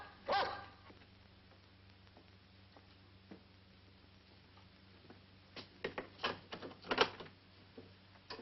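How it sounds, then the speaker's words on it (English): Dogs bark in a 1966 black-and-white British TV spy drama: one distant yelp first, then a cluster of quick barks a few seconds later, muffled and moderately faint. "find out what's the matter with those dogs"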